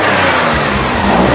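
A Lancia Stratos rally car with a 65-degree 2.4 litre Ferrari V6, twin overhead camshafts per bank and three twin-choke Webers revs hard and loud, a dense, rasping engine roar held close for a brief burst.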